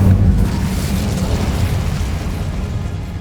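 A loud, booming fire-spell explosion, Incendio, in the game Hogwarts Legacy, hitting hard at the start and then rumbling and crackling as it slowly fades.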